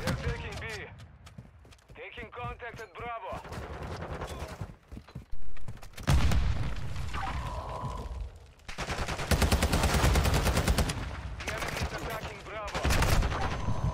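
Video game gunfire rattles in bursts of rapid shots mixed with other game effects, while players talk excitedly over the action.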